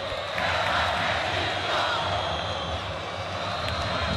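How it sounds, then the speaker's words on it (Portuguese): Fluminense supporters fill the Maracanã stadium with a broad, continuous crowd roar during the 2008 Copa Libertadores final against LDU, a dense wash of many voices chanting at a distance. "A torcida do Fluminense que nos treinos desta semana veio com um grito, oh, oh, eu acredito."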